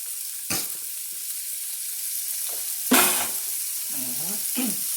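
Bacon stir frying in a pan: a constant sizzling hiss, with a few scraping stirs and clinks of a utensil against the pan.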